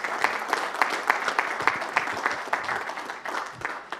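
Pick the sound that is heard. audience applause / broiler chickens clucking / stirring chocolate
audience applause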